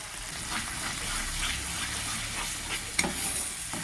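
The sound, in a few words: spice paste (masala) frying in oil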